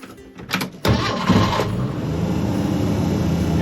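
A 1987 Jeep Wrangler cranks briefly, then catches and settles into a loud, steady idle, close by and alone.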